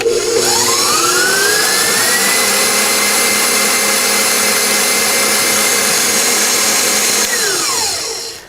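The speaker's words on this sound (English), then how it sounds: "I'm going to turn the mixer on" Stand mixer whipping meringue for buttercream icing runs loud and steady as a continuous motor whine, its pitch rising as it spins up over the first seconds, holding, then dropping as it winds down at the end.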